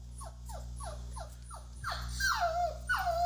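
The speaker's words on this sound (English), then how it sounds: "So there's one puppy." A small puppy whimpers in a quick series of five or six short, high, falling whines, then lets out two longer, louder whining cries over a steady low hum.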